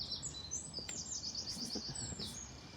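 Birds sing steadily on an early-summer country walk near a main road, with bright repeated chirps and trills layered close and farther off over a low outdoor rumble, and nobody talks.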